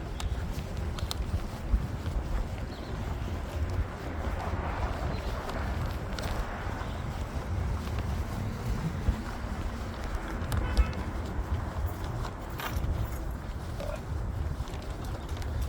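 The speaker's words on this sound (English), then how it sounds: "It's windy today, but it's not like a super strong wind" Steady wind gusting outdoors, a continuous low rumble and buffeting against the microphone that persists throughout without letting up.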